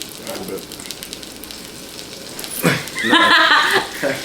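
Butter sizzles in a pan ahead of cooking eggs. The frying hiss is faint at first, then swells into a louder, crackling sizzle close by, with no talk over it.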